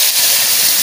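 Hissing burst as water hits a hot frying pan holding cumin and four chillies, a loud, steady broadband sizzle that fills the short moment without pause.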